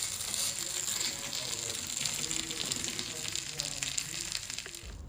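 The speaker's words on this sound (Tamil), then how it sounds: "இதை லோ ஃப்ளேம்லேயே வச்சு 2 to 3 மினிட்ஸ் குக் பண்ணி எடுத்துக்கோங்க" A chicken egg omelette fries in a pan on a low flame, giving a steady, close sizzle with faint crackles throughout.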